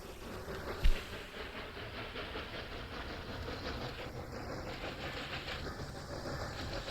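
A John Bull steam locomotive runs in the railway video game Railway Empire 2, with a steady, moderately faint rolling rumble and hiss, a single soft thump near the start and brief higher tones later.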